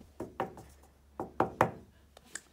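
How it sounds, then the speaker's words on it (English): Knuckles knock on a door in two quick groups of sharp raps, two knocks and then three, close and fairly quiet, with a faint tap at the end and no talking. "I'm gonna knock on this door."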